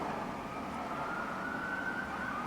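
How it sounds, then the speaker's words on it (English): Passing ambulance siren heard from inside a Tesla on a city street, a faint wailing tone sliding slightly in pitch over low steady road noise. "there always seems to be ambulances, and that's another one."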